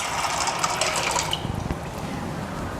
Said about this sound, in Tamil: போட்டு நம்ம அதில் தண்ணி வேணுங்கிற அளவு ஊற்றி வச்சுக்கலாங்க.